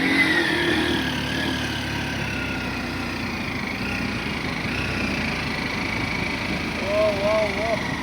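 A car climbs slowly up the foggy hill road to Nandi Hills in Karnataka, its engine giving a steady, continuous mid-range drone that holds at an even level throughout.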